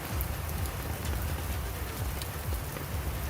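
Steady rain falls in Dehradun, a dense, even hiss of drops pattering on surfaces, with no voices.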